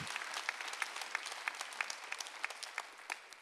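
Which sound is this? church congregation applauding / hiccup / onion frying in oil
church congregation applauding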